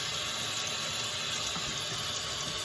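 Tap water runs through a Brita faucet-mounted filter on the filtered setting, a loud, steady, unbroken rush of flowing water with no voices.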